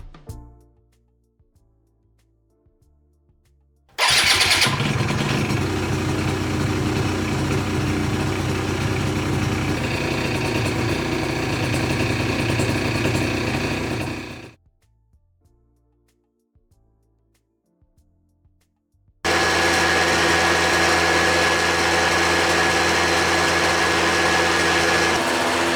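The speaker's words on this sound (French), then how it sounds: "écoutons les deux pots d'échappement au ralenti et à 5000 tours par minute." A two-wheeler fitted with Yasuni R and Z exhausts runs in loud, steady bursts: a sustained high-revving roar around 5000 rpm, a drop to a low idle putter, then another strong constant roar.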